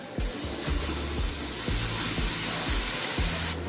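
Red amaranth greens dropped into a hot wok, a loud steady sizzle and hiss that holds throughout with faint clatter beneath.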